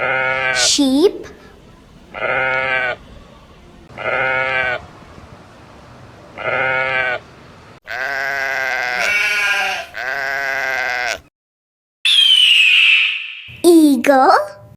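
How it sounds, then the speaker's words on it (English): Sheep bleat in a series of separate, loud, wavering calls with short gaps, several longer cries later, and a high squeal-like call near the end. "Sheep."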